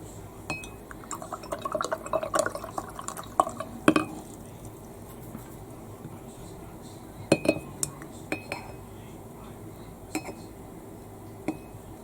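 A paintbrush swished and tapped against a water container while working on a color portrait, giving scattered small glassy clinks and light watery rattles, close and fairly quiet, in clusters with pauses between.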